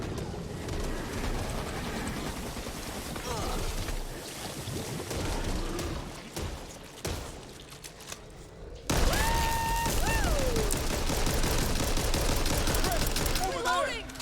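Minigun fire in Back 4 Blood, a dense sustained burst of rapid shots over game noise, with a shrill whining tone rising and falling in the second half.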